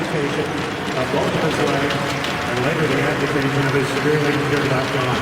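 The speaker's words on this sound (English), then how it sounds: "And a warm standing ovation from the crowd here at Scottrade Center." Arena crowd at Scottrade Center giving a standing ovation before a St. Louis Blues versus Phoenix Coyotes hockey game, a loud, steady roar of cheering and clapping filling the whole clip with no break.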